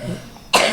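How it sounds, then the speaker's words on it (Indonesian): A single harsh cough bursts out near the end, loud and close, after a quiet stretch of room noise. "waduh, pada batuk, maaf ya."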